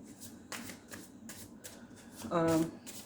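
A tarot deck is handled and shuffled, with several soft, quick riffling bursts of cards close up, while someone talks over them.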